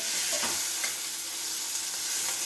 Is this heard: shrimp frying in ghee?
yes